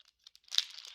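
Plastic packaging from a Pokémon treasure chest lunch box bundle being handled up close, with a brief, quiet burst of crinkling and tearing that is scattered at first and then denser.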